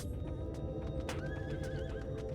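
A horse in Final Fantasy XIV gives a clear whinny with a wavering tail, heard over a busy game background of hoof clip-clops and ambience, close and fairly loud with no talk.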